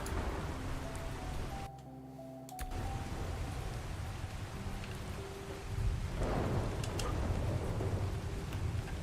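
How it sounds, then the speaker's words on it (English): Steady, loud rain in the game Ark Survival Ascended, a dense continuous hiss with a brief dropout early on and a swell of rumbling thunder later, no voices. "I'm going to get rid of this rain because it is actually quite loud."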